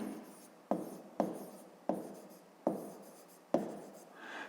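Chalk or pen writing during a fifth-grade maths lesson, a short run of scratchy strokes, each starting sharply and fading, about five in a row, close and quiet with no talking.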